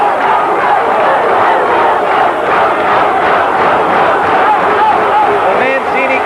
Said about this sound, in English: The Mancini crowd comes alive, urging on this exciting young challenger.